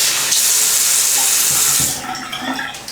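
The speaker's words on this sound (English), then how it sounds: "Gotta use water from the sink." Tap water runs steadily into a bathroom sink with a loud, close hiss, then the flow eases and splashes and handling noises follow.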